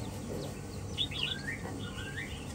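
A small bird with white legs and a white beak gives a few quick, high chirps and twittering calls over a low background hum.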